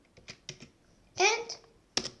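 Typing on a computer keyboard while writing Python code: a few scattered key clicks and a short burst of rapid keystrokes, then a sharp final tap, close and fairly loud.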